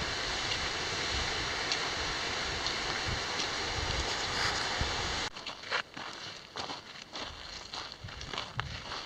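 A waterfall spilling from a small valley along a hiking trail gives a steady broadband rush for about five seconds, then cuts to quieter outdoor ambience with scattered footsteps and crunches.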